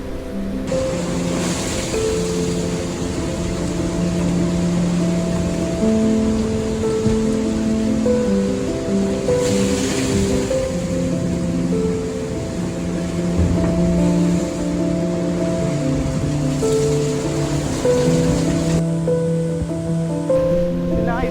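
Waves on the open sea in the southern Indian Ocean, somewhere before Australia, make a constant loud wash with no breaks, under a steady tonal hum.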